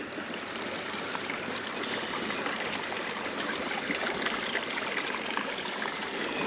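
Creek stream flowing at a bass fishing spot, heard as a continuous close trickling, babbling rush of water, steady throughout with no talk.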